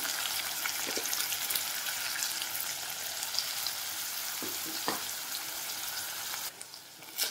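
Ingredients for katte pongali frying in a pan on a medium flame, a continuous soft sizzle with occasional small pops and crackles, steady and moderately close, with no talking.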